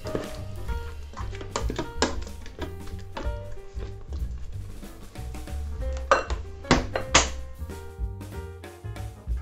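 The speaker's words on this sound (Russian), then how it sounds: "Все тщательно перемешиваем." A spoon or utensil clinks and scrapes against the pot of a multicooker while turkey is stirred in barbecue sauce, with irregular metallic taps and knocks close up and fairly quiet, no talking.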